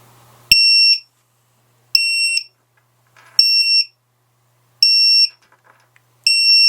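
The DroneKeeper Mini timer sounds a loud, piercing alarm: five evenly spaced bursts of high electronic beeping, each about half a second long, separated by near-silence.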